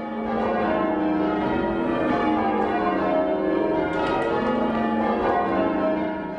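Tower bells in Tynemouth rung by a team of bell ringers, a steady, overlapping peal of ringing tones sounding continuously and fairly close.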